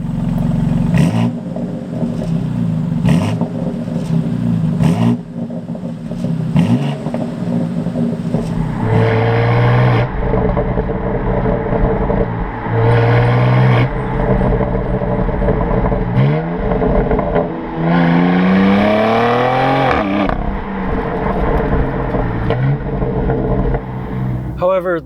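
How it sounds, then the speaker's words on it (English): A 2021 BMW X4 M Competition's 3-liter inline-six engine with active exhaust revs up and down repeatedly with rising and falling pitch, loud and close, with a few sharp pops between revs. "This engine also makes some very sweet sounding music with the active exhaust system."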